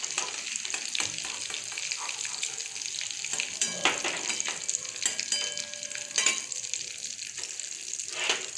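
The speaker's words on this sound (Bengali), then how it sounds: "এই যে দেখুন হালকা করে ভেজে নিয়েছি।" Chhana bora fry in oil with a soft, steady sizzle, moderately quiet and close, broken by occasional clinks and scraping stirs.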